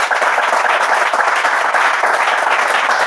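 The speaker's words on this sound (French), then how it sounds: "On peut les applaudir bien fort." A studio audience applauds the contestants of a Bible quiz final, a loud, dense and steady burst of many people clapping throughout, with no talking.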